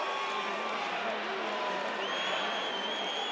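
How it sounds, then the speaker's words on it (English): A sellout stadium crowd at a BYU at Georgia Southern college football game at Paulson Stadium cheers, a steady distant roar of many voices filling the whole clip at moderate loudness. "just listen to this sellout crowd in Paulson"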